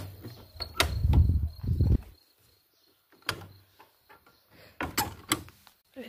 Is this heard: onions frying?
no